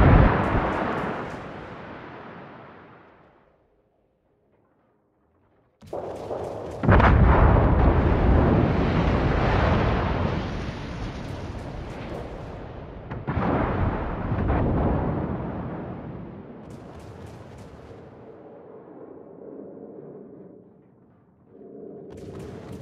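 Heavy naval gun salvos from warships in World of Warships, booming in loud, rumbling bursts separated by brief pauses, with long rolling echoes trailing each volley and no talk.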